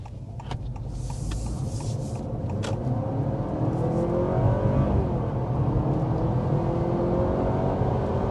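A 2024 Honda Accord Sport hybrid accelerates hard, its engine and drivetrain whir rising steadily in pitch, heard from inside the cabin with no talk.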